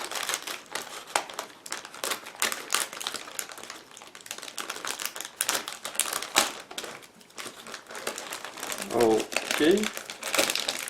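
Crinkling and rustling plastic as a sealed bag from a 1/35 scale model kit is handled and opened, busy crackles throughout with a brief voice near the end.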